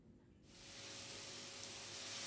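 Vegetables with salt and turmeric fry in a pan; after a brief quiet moment, a hissing sizzle rises sharply and keeps building into a steady, close crackle.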